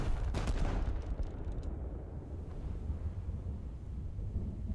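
A tank gun test-fires a high-explosive shell in a video game, a deep booming blast that rolls off into a long low rumble, distant and muffled.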